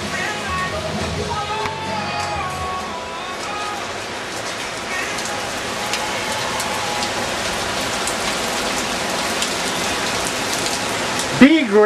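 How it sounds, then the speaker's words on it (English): Heavy rain pours down in a steady, dense hiss throughout, with faint voices now and then underneath. "Big, big, big, big, big rain. Really raining."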